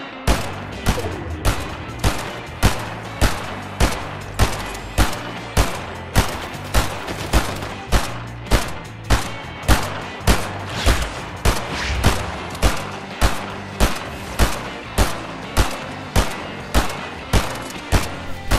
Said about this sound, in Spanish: Y me sale este ruido todo el rato, que es como de disparos